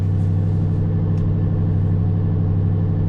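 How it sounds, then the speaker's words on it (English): A Ford Mustang engine gives a steady, loud low drone heard from inside the car, holding an even pitch without any sharp revving or speech. "The roar of the mighty Mustang."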